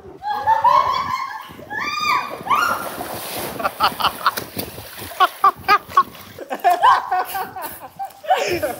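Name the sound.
water splashing as people float in the sea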